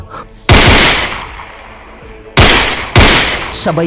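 Three loud, sharp gunshots ring out, each with a booming tail, spaced unevenly over a few seconds.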